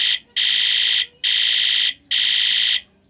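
A small speaker in a bicycle LED light-and-horn unit sounds a shrill electronic alarm, repeating in four loud, evenly spaced beeps with short gaps between them.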